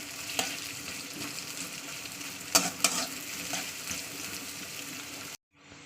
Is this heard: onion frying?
yes